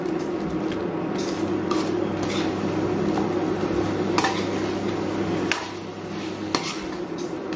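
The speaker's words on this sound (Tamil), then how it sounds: "இப்போ இதை இதில் நல்லா பிரட்டி எடுத்துக்கலாம்" Fried cauliflower pakoda is tossed and stirred in a pan of Gobi Manchurian sauce, with repeated metal spoon clanks and scrapes against the pan over a low steady hum, close and clear.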